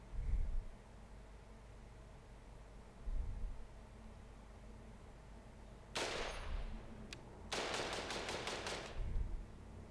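A compact AK pistol fires 7.62x39 full metal jacket rounds outdoors: one sharp shot, then a quick burst of about six shots in rapid succession, loud against quiet background.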